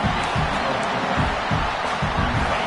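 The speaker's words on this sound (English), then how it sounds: "This crowd is trying to inspire this defense to make a big red zone stop." A large stadium crowd at a football game sends up a dense, continuous roar of cheering and shouting. It is loud and steady, and faint low thumps pulse beneath it.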